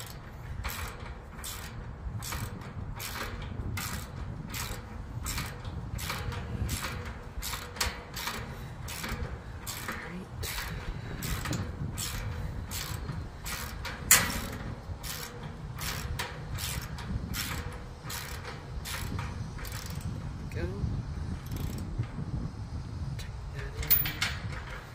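Bolts are tightened on a hitch-mounted steel cargo carrier with a ratchet, giving a rapid, regular series of sharp clicks that runs the whole time, with a few heavier clunks and some quiet talking.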